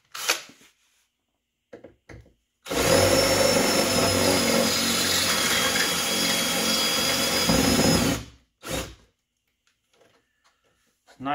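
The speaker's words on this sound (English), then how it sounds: "Now we're going to drill the rivets out." Power drill boring out rivets on a Lincoln Town Car power window motor, one loud steady whine of about five seconds, close up, with brief talk before and after.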